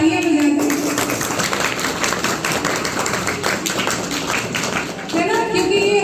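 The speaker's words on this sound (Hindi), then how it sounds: "इनके लिए जोरदार तालियां बजा दें" An audience applauding at a school science club quiz competition in a government higher secondary school, a dense sustained wash of clapping from a crowd, with a voice heard at the start and end.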